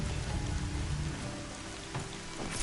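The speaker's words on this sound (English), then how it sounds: "Just the way all that beautiful landscape just suddenly disappears with the rain." Steady rain falling in the video game Horizon Zero Dawn, a dense continuous hiss of drops on surfaces, moderately loud with faint background tones and no voices.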